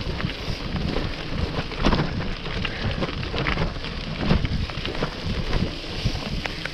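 Steady rain with wind buffeting the microphone during a cycle tour in Scotland, a constant close hiss and rumble with no voices.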